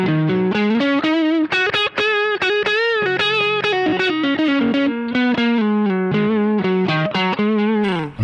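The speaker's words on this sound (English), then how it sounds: "it is distortion because it's a different sound to overdrive" Electric guitar played through a Mosky Ultimate Drive pedal set to mid-high gain distortion, with the guitar volume knob full up. Saturated, sustained chords and notes ring out loudly and continuously, with no talking.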